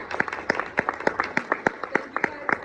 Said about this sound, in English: let's give Sylvia a round of applause